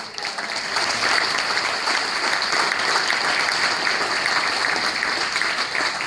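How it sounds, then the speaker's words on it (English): An audience at a candidate election forum gives a steady, dense round of applause, loud and sustained without letup from start to finish. "I want to give another round of applause to Mr."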